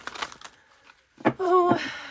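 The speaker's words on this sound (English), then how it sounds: "continue to just randomly shuffle it this way" An oracle card deck is shuffled by hand in a few soft, brief riffling bursts, close up, with someone talking over part of it.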